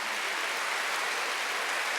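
A church congregation applauding during a Sunday worship service, a steady, dense wash of clapping with no pauses, fairly loud and filling the room.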